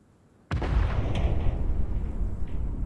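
A single muffled boom goes off after a moment of quiet, then a long low rumble rolls on and slowly fades, sounding far away.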